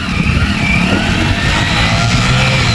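A motorcycle engine rumbles loud and steady up close, a continuous low throbbing with no pauses.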